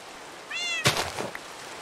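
A short cat meow in Minecraft, followed at once by a louder burst of broadband noise and a few faint clicks, all close and brief with no talking.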